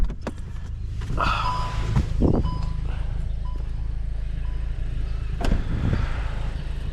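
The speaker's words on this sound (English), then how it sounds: "I love the way it sounds. The exhaust really opened it up." A Volkswagen GTI with an opened-up exhaust gives a steady low engine rumble throughout, with a few knocks and clatters over it and no speech.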